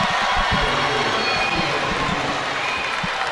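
A large crowd roars and cheers continuously in a big echoing arena, loud and sustained, with scattered shouts rising above the din.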